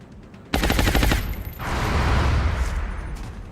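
Rapid bursts of automatic gunfire in the video game XCOM Long War, a loud rattling volley for about a second followed by a rumbling, fading blast and lingering noise.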